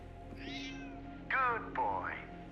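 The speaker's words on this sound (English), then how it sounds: "Lux, who's a clever cat? Yeah, you are" A cat meows in a video game, three rising and falling meows over a steady electronic hum, the later two louder and closer together.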